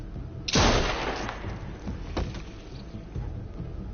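A single loud gunshot goes off in Telltale's The Walking Dead: A New Frontier video game, with a sharp blast that rings out and decays, followed by a fainter thud.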